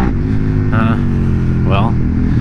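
A 2019 Suzuki SV650X motorcycle engine pulling in second gear, a steady close droning hum with slight rises in pitch, heard under wind buffeting.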